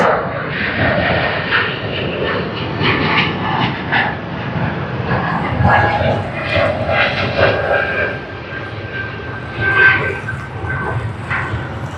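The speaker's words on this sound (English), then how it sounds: "A220, the 50-year livery of Air Niugini, Papua New Guinea, 50 years" An Air Niugini Airbus A220 jet at Sydney Airport gives off a loud, continuous engine roar with a whining tone, heard from nearby and rising and falling slightly, with faint voices underneath.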